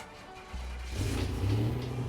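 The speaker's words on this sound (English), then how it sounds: "Let's jump in it, start it up so you can hear it and go for a ride." A 1987 Buick Grand National's engine cranks and catches, then settles into a steady, close idle with a rising rumble and no voices.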